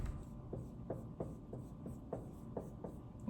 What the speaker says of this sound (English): if I actually write the word